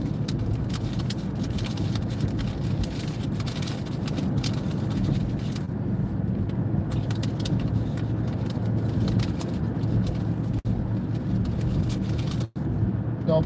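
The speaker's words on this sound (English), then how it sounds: "Traffic is starting to move." Busy road traffic heard from inside a moving car during a driving lesson: a steady broadband rumble of engines and tyres on hot pavement, continuous and fairly loud with brief dips, no talk.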